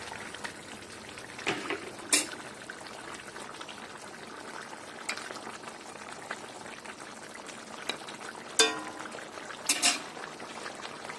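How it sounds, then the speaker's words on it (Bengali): Onion curry gravy for katla fish bubbles quietly in a pot, a soft steady simmer broken by a few sharp pops and clinks of a utensil. "এই যে দেখুন ফুটে গেছে ঝোলটা"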